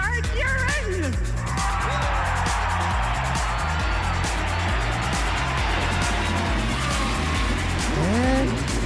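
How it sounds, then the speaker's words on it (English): Indy 500 race car engines start up and roar in a steady, loud, continuous drone, with the tone rising and falling as cars rev and move through the speedway. "Gentlemen, start your engines."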